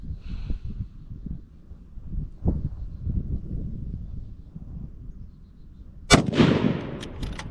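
A rifle fires a single loud, sharp shot at an outdoor range with heavier bullets, near the end after several seconds of low wind and handling rumble, with a brief echoing tail.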